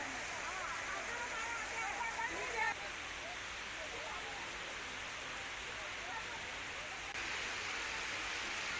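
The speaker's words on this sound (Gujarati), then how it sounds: "મંદિરના પગથિયા પર પાણી વહેતા હોય તેવા દ્રશ્યો જોવા મળ્યા હતા" Heavy rainwater rushing down temple steps at Pavagadh: a steady, dense roar of flowing water that fills the whole stretch, with voices faintly mixed in beneath it.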